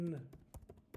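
Typing on a computer keyboard, a few quick soft key clicks over about a second, heard just after a brief voice fragment at the start.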